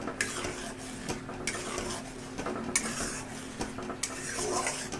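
Curd being stirred into a curry in a pan, with steady scraping and clinking of a utensil against the metal, a few sharper knocks, and a faint sizzle underneath.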